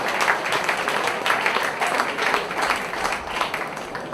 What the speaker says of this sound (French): Je souhaiterais qu'on les applaudisse et qu'on les félicite.